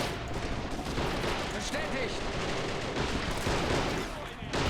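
Tank gunfire from the World War II strategy game Men of War: Assault Squad 2, in a V2 factory defense battle. Dense, continuous battle noise with rumbling shots and crackling fire, loud and unbroken with no pauses.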